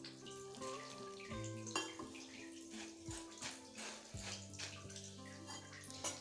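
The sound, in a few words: pouring hot water over puffed rice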